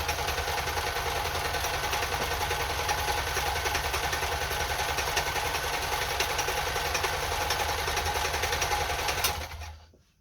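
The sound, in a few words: Kenmore sewing machine sewing reverse blind stitch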